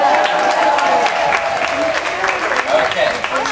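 A crowd at Grant's Farm claps and cheers steadily for a race, a dense, close wash of hand claps mixed with shouting voices throughout.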